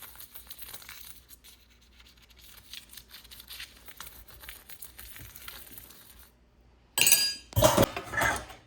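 Kitchen utensils from a meal of shaak and rotli are gathered up for washing, with a sudden loud clatter of clinking vessels in two or three close bursts after a long stretch of near silence.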